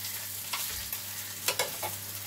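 Salted curry sauce for shol fish kalia bubbling in a pan, a steady close simmering hiss with a few soft pops and spits.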